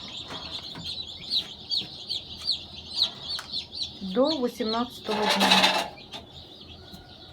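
Chicks cheep continuously in high, rapid peeps, kept warm below an egg incubator, with a hen clucking briefly and a voice speaking a few words partway through.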